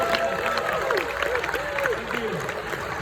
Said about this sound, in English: give a round of applause for the Rotary staff